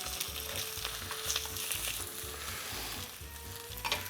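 A sunny-side-up egg frying in a pan for a croque madame gives a soft, steady sizzle and crackle, quiet and close, with a faint low rhythmic hum underneath and nobody talking.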